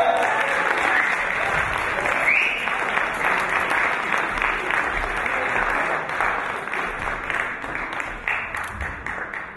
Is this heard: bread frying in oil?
no